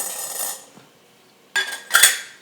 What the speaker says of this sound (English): If I can get the lid off